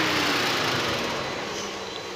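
Datsun Go car engine idling smoothly after a faulty number 3 ignition coil was replaced, a steady, loud broadband hum with no jerking or misfire, heard up close and alone.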